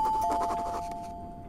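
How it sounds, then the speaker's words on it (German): A two-tone ding-dong doorbell rings at Black Mirror castle in the video game Black Mirror III, the clear chime sounding once and fading out with no voices present. "Black Mirror hat eine richtig schöne Klingel."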